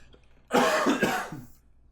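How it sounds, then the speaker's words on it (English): A single harsh cough or throat clear, close and loud, breaking into a couple of rough bursts before trailing off. "We're all coughing and sneezing."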